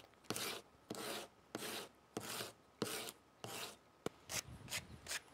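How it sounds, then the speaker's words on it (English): Sandpaper rubs wood down to a point while shaping a drawing proportional divider: about nine regular, close rasping strokes in an even rhythm, quickening into shorter strokes at the end, with no talk. "And then I'll do the rest with the sandpaper."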